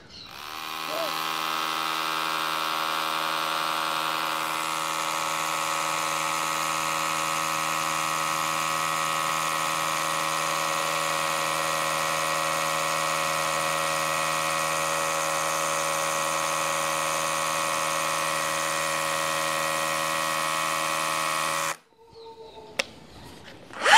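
Rotary hammer drilling with a common, non-SDS drill bit, giving a steady, strong motor whine with a buzzing tone that holds for about twenty seconds and then cuts off, followed by a few small knocks.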